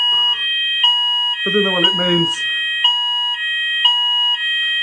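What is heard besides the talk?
room alarm sounding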